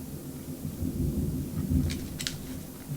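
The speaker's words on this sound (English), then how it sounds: "there's a heck of a storm going on outside right now" Low rumbling thunder rolls continuously from a storm outside, a deep, sustained boom that swells near the middle, heard from indoors with faint rain-like patter.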